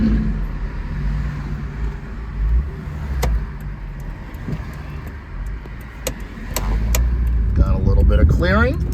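Steady engine drone and road noise from a 1993 Ford Probe GT with its V6 under load while driving with the windows down, with a louder, rising surge near the end and a few brief clicks.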